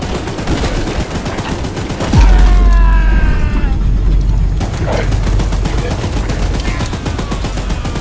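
Mounted gun in the Choo Choo Charles video game firing in rapid, dense bursts, loud and close, with a deep booming impact and mechanical clanks partway through, under brief shouting.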